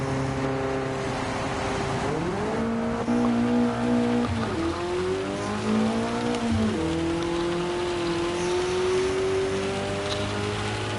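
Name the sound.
old school BMW engine in Gran Turismo 7 video game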